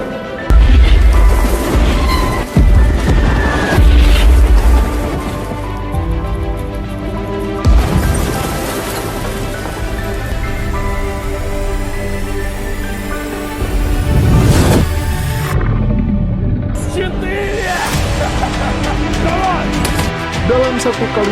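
A T-34 tank opens fire on German tanks in a war-film battle: several heavy booming cannon shots and crashes punctuate a dense soundtrack of rumble and music, loud and close, with some speech.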